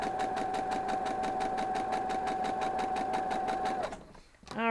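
Home sewing machine stitching a quilt block, a steady fast rhythmic whirring hum with a sustained motor whine, running continuously at close range for about four seconds before stopping abruptly.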